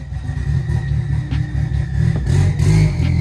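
Subaru fitted with an Evo front end and a bumper dump exhaust revs loudly up close, the engine rising and surging in steady throttle blips.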